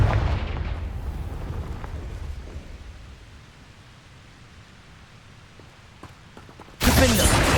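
A blasting-spell explosion in the video game Hogwarts Legacy, a loud low boom that fades into rumbling debris over several seconds, then a sudden burst of hissing noise near the end.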